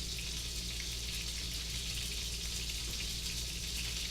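Haggis slider patties sizzle in a pan with a steady, close frying hiss that runs unbroken throughout, with no voices over it.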